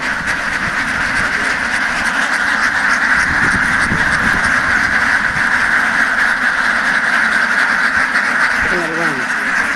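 A dense, continuous chorus of ducks quacking from a large flock, steady and fairly loud, with a low rumble underneath and a brief voice near the end.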